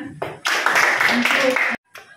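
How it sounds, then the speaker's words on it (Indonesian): A school audience in Sunggal breaks into a short burst of clapping, a dense close patter lasting over a second and then stopping abruptly, with a voice speaking just before. "tepuk tangan"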